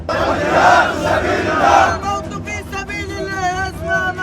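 A crowd chants and shouts slogans at a funeral, loud massed voices surging in rhythmic waves before individual shouting voices stand out over the dense crowd noise.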